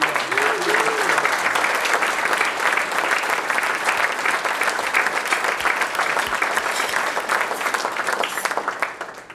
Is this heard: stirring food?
no